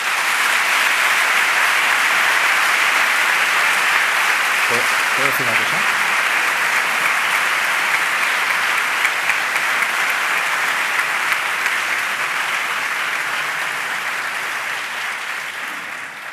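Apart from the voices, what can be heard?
audience applause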